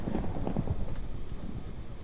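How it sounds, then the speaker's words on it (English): Hooves of a skeleton horse in Minecraft clop faintly during a night thunderstorm, a few dull thuds under a steady wind-like rumble. "That's a skeleton horse."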